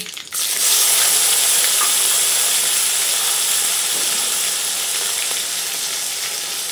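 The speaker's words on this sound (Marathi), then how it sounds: "मी हे मध्यम आकाराचं टमाटर कापून घेतलेलं आहे, ते आपण ह्याच्यामध्ये टाकून घेऊ।" Chopped medium tomato drops into hot oil with cumin seeds and curry leaves in a pan, bursting into a loud, close, continuous sizzle and hiss that slowly eases, with no talk.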